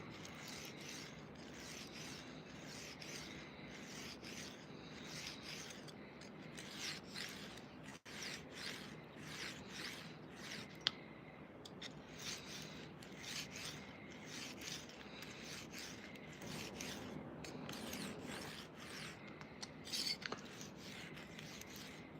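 A file is worked over a tool tip to sharpen it, making quiet repeated rasping strokes in a steady back-and-forth rhythm, close by with no talking.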